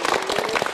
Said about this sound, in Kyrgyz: Кол чаап коелучу келиңиздер.